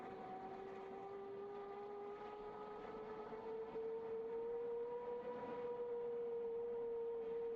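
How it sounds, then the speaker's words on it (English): An F-15E's jet engines spool up in DCS World, with a steady rising whine and a low rumble that hold at a moderate level throughout, with no talk. "Engines are spooling."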